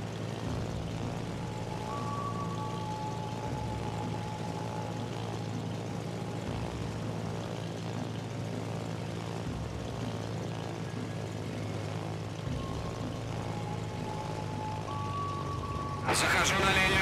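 Fighter planes launched from an aircraft carrier in World of Warships drone with a steady, humming propeller-engine tone throughout, a radio-style voice talking over it before a sharp burst near the end.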